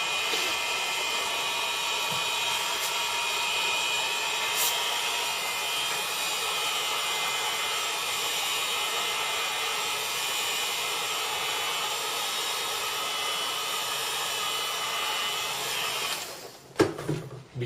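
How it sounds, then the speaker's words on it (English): A heat gun blows hot air over the display of a MacBook Air 11-inch A1465/A1370, a constant loud whooshing hiss that runs steadily before a few handling knocks at the end. "Be careful with the heat gun if you never used it before."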